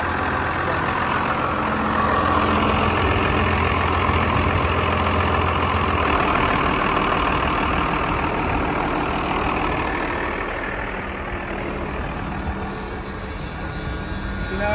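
A tractor engine runs steadily to power the hydraulics of a White 6346 planter, a loud continuous mid-to-low drone that stays even throughout, easing slightly in the second half.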